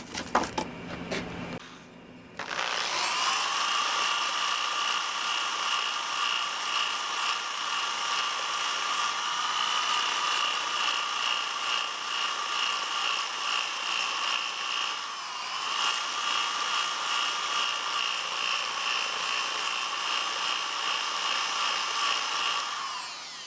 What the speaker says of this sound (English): I always tell you how good this thing is, this sander